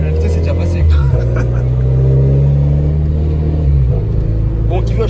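A Renault RS car in sport or race mode accelerates hard with a loud, steady engine drone, its pitch climbing and then dropping sharply at a quick gear change near the start and again toward the end.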